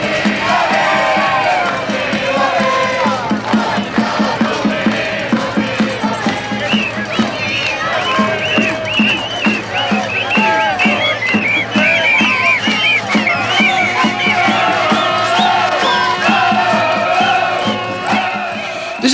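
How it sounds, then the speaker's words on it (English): A large football crowd at an Italian stadium chants and shouts in a dense, continuous roar, with rhythmic clapping and drumming underneath and trumpet-like tones rising over it throughout. "the chanting of the crowd, the synchronized movements of the fans, and the noise of the trumpets and the drums"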